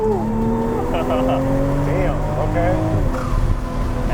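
A Toyota Supra in race mode gives sharp whistling chirps and hisses from its blow-off valve over a steady engine drone, while voices briefly talk over the close, loud sound.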